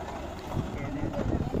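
A Swraj 960 Euro 60 five-star tractor on 16-inch tyres runs at a field demonstration of 55-60 horsepower tractors. Its low, steady engine rumble carries with wind noise, and voices can be heard under it.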